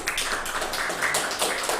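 Conference audience applause, a steady dense patter of many hands clapping together, fairly close and continuous with no talk.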